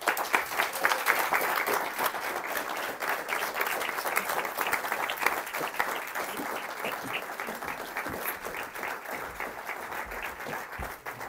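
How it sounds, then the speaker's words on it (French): An audience claps to welcome two guests onto a stage, steady sustained applause from a crowd of many hands, moderately distant and continuing without a break. "j'aimerais que vous applaudissiez"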